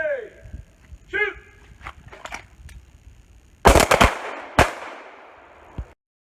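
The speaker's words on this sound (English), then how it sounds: "Shooters ready! Shoot!" Pistols fired on a combat pistol course, a few sharp, loud cracks arriving close together after talk and a whistle-like tone, then the ground falling quiet.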